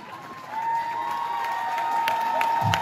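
Concert crowd at Hiroshima Mon Amour in Turin applauding and cheering for the band, a steady wash of clapping with a sustained tone running underneath, fairly loud throughout.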